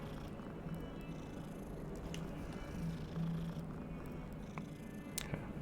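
A cat purrs steadily in the background of the video game Hogwarts Legacy, soft and continuous, with a few faint clicks on top.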